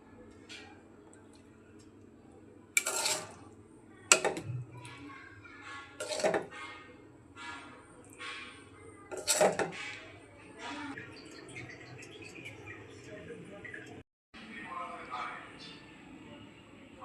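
A spatula scrapes and knocks against a pan while okra fry is stirred and taken off the heat, a few faint separate clinks and taps over a quiet room with talk in the background.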